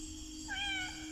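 A cat at an amusement park gives one short, fairly faint meow over a low steady background hum.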